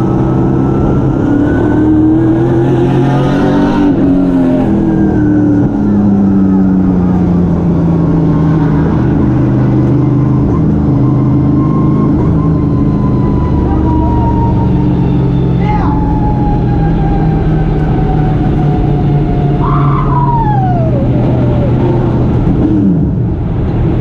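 Onboard race car in the RPM Mortgage Pro Series crossing the finish line, engine droning loud and close throughout with rising and falling pitch sweeps as it shifts, with faint voices mixed in.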